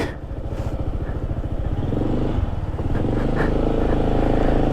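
A delivery motorcycle engine idles and chugs up close, its low rumble rising slightly as the bike makes a wide turn, steady and loud throughout.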